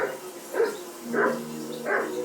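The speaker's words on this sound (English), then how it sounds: "Do something with that mutt, Henry." Dog barking in the Kingdom Come Deliverance 2 video game, four evenly spaced, fairly loud barks heard close up and alone.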